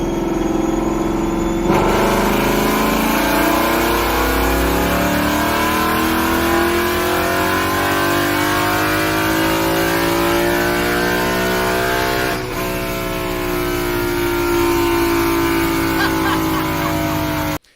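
A car engine revs hard on a dyno with the hood open, its pitch sweeping up through a long pull, loud and close, with a brief dip partway before climbing again.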